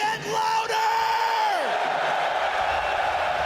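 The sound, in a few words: arena crowd cheering at CS2 Major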